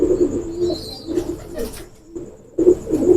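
Teddy pigeon cooing close by, a few low throaty coos with short pauses between them and faint chirps in the background.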